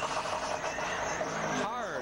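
NASCAR Busch Series stock car engine at the 2003 Pepsi 300, heard from the in-car camera: a steady, loud roar with a sweeping pitch change near the end, under continuous commentator speech.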